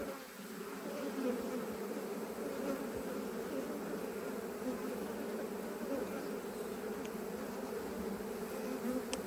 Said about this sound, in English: There's fighting going on at the entrance. This is actually an usurpation swarm that just landed.